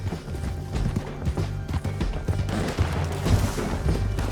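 Galloping horse hooves in the game Red Dead Redemption 2, a steady rhythmic clip-clop close up, with rumbling game action beneath.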